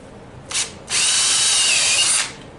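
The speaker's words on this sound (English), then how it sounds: "I'm going to use it to drill the track." A power drill drilling into a snowmobile track whirs up briefly, stops, then runs steadily for over a second before winding down, close and loud.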